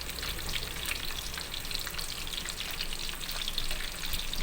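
Fish fillet frying in a hot pan, a steady close sizzle and crackle of oil holding at an even level throughout with no talking.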